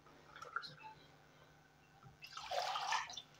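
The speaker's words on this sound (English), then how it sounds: "I'll just add water to the chicken." Water poured into a pan of ketchup-coated chicken, a few faint drips and small splashes first, then a louder gush of pouring and sizzling liquid near the end before it fades.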